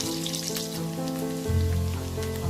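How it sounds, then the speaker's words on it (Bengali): Steady crackling sizzle of onions frying in a pan until brown, with soft tonal music running underneath. "পেঁয়াজটা একটু ব্রাউন করে ভাজবো।"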